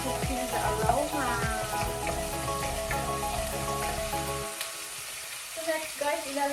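Garlic sizzles and fries steadily in a hot pan for home-cooked chicken curry with potato, with stirring scrapes on top; the sizzle cuts out about two-thirds through, leaving quieter kitchen clatter.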